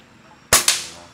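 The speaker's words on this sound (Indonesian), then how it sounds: "Ini kado ulang tahunnya senapan merek seni pergan." Air rifle given as a birthday gift, fired once: a sharp, loud crack with a quick second burst right after, then a brief decay.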